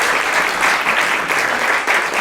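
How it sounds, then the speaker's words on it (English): Audience applause at a women's program film screening, a steady, moderately loud wash of many hands clapping with slight surges, continuous throughout. "please let's give them a round of applause"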